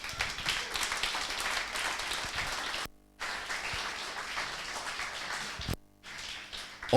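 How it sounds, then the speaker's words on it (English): An audience applauds after an idea-pitching session, with dense, sustained clapping from a sizeable crowd that cuts out abruptly twice before resuming. "Big round of applause for you."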